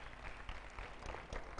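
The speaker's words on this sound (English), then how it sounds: "Clap for the Lord." A church congregation applauds for the Lord, a faint, steady patter of many hands clapping at a distance that fills the short moment without any talk.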